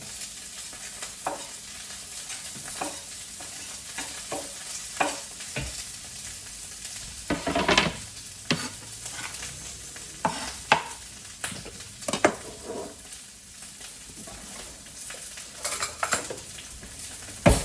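Onions fry and sizzle in a pan while being stirred, producing steady close crackling punctuated by frequent scraping and knocking strokes of the utensil against the pan.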